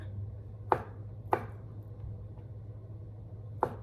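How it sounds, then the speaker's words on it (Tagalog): A knife chops cooked pork lungs into small pieces for bopis, three sharp, separate chops on a board spaced irregularly over a steady low kitchen hum. "Ganito lang po ang gayat. Kailangan po maliliit lang."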